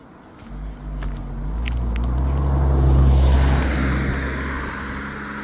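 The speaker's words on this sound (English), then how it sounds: "there's a whole town here, so you're gonna have a lot of car noise" Car traffic from a nearby town drifts over farmland in the Jezreel Valley, a continuous low rumble swelling as a vehicle passes close, then easing off, with no talking.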